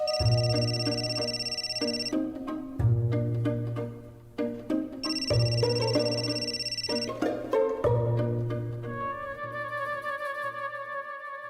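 A phone ringtone plays in repeated bursts, a bright electronic melody with brief gaps between rings, ending in a different chiming tone.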